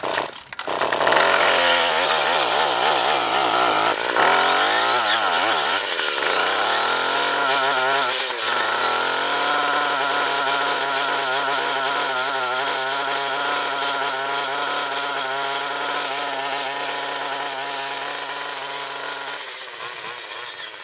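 A Cub Cadet BC280 brushcutter's two-stroke engine runs loud and close for the whole stretch, its pitch wavering as the throttle is eased on and off early before settling into a steady high drone.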